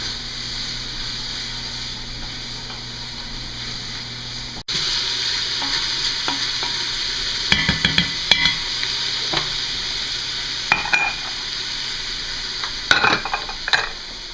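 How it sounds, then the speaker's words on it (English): Salt and pepper stirred into a simmering pot for Southern-style collard greens: a sudden onset of steady frying hiss, then scattered spoon clinks and scrapes against the pot, with no talking. "Mix that all up."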